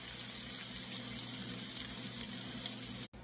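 Meatballs sitting covered in a pan on the lowest heat setting: a soft, steady, faint sizzle hiss running evenly, cut briefly near the end.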